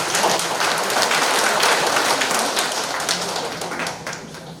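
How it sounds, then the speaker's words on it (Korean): An audience at an anniversary event on a mountain gives steady applause, a dense, fairly loud patter of many hands that holds and then gradually tapers off. "요 정도 박수 소리 가지고는 제가 출마하기가 조금 어렵겠네요"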